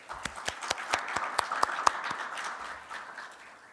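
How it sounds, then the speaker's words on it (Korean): A church youth congregation claps to welcome a new member, with sharp individual claps standing out over a softer wash of applause that fades near the end. "우리의 새 가족을 박수로 환영하겠습니다."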